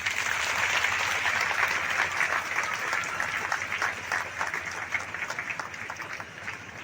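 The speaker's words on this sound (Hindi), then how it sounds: "इन तीनों के लिए एक बार जोरदार ताली आप सब बजाएं।" A seated audience at a formal ceremony gives sustained applause, a dense crackling of many hands that stays strong and then slowly thins out toward the end, with faint talk beneath.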